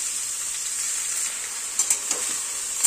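Mixed winter vegetables, including radish, aubergine, yardlong beans, potato and squash, fry in a pan with cumin, giving a continuous bright sizzle close up, with a few brief stirring scrapes toward the end.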